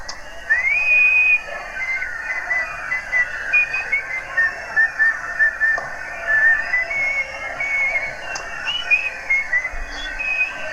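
A person whistles a tune solo, a clear, wavering melody of short phrases and sustained notes with a few brief pauses, close and fairly loud.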